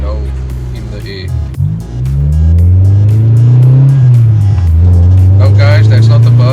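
A motorbike engine revs loud and close, its pitch climbing steadily as it pulls hard through the gears, heard while a car sits parked nearby.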